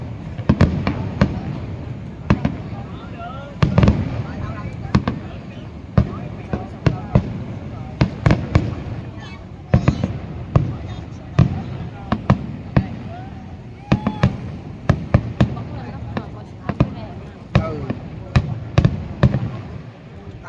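Fireworks burst repeatedly in the sky at a 2 September celebration, a steady crackle of near and distant bangs and pops, with a crowd and voices talking throughout.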